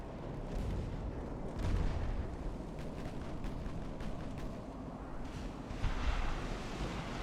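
Naval guns firing in Ultimate Admiral: Dreadnoughts during an 1890s Italian fleet battle, with repeated distant booming salvos rolling over a constant low rumble of sea and wind.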